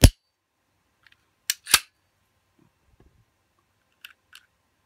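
The slide of an M&P Shield 9mm pistol is racked and locked open, giving a sharp opening click followed by a pair of crisp metallic clacks, then faint small clicks in a quiet room.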